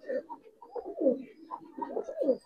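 Giribaz pigeons on a farm coo softly nearby in a series of low, throaty rolling calls, several overlapping phrases rising and falling in quick succession.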